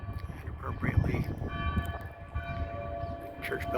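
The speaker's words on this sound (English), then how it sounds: "church bells are ringing" Church bells ring in Jerusalem, heard from atop the Citadel at David's Tower, as sustained overlapping tones beneath steady crowd murmur and voices throughout.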